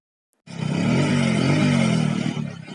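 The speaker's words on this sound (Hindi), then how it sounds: "एक ही किक में बाइक स्टार्ट हो गई" Motorcycle engine started with a single kick after refuelling, then idling steadily with a low rumbling note; close and loud, running continuously after a brief silence.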